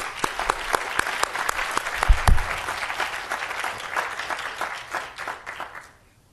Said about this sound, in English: Big round of applause, girls.